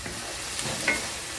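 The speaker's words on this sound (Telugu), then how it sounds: "ఇవి కొంచెం బాగా ఫ్రై చేద్దామండి ఉల్లిపాయ పేస్ట్లోని ఫ్రై చేస్తే ఈ ఫ్లేవర్ అంతా కూడా రొయ్యలకి పట్టుకుంటుందండి" Raw prawns frying in onion paste give off a steady, close-up sizzle and hiss, with a light stirring scrape near the end.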